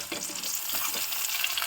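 Chopped tomatoes sauté in hot oil in a pan, a soft continuous sizzle with faint stirring scrapes, fairly quiet and close.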